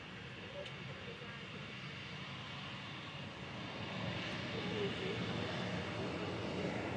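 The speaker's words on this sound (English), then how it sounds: "Departing back to Amsterdam now is KLM flight 1032." A KLM airliner departs Manchester Airport toward Amsterdam. Its jet engines give a distant, faint broadband roar that swells gradually.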